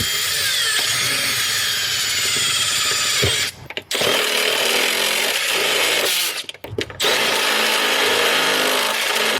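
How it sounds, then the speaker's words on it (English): A step drill bit, stepping up to 32 mm, bores a hole during a pedal installation for an IS300 manual swap, giving a loud continuous drill whine that stops briefly twice before resuming. "this is a step drill bit. It goes all the way to 32mm, just better than a hole saw"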